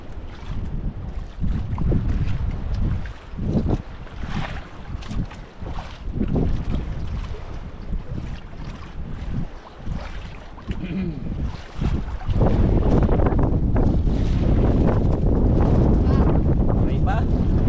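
Strong wind buffets a boat at sea amid rough waves, with broadband rushing noise and microphone wind gusts that grow louder and steadier in the second half; voices are faintly present at times.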